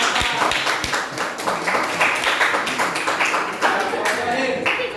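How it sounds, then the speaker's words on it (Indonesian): Classroom clapping from students right after a group presentation ends, a steady patter of many hands with some voices mixed in throughout. "Tepuk tangan dong"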